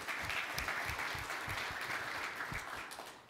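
Steady applause from a large conference keynote crowd, continuous clapping filling the room for a few seconds without a break.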